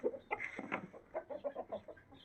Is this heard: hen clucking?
yes